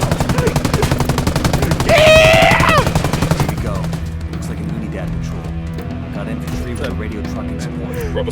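Rapid automatic gunfire from Tom Clancy's Ghost Recon Wildlands rattles in a dense, steady stream, then thins into scattered shots while a voice shouts over it.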